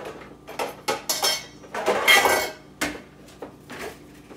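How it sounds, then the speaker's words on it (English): Marshmallows tumble from a measuring cup into a bowl, with close, hard knocks and scrapes of dishware in uneven bursts and a longer rattling pour in the middle, and no one speaking. "I'm going to set these aside in a different bowl"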